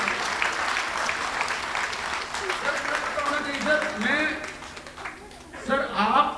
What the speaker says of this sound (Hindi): ताली बजाओ भाई साहब के लिए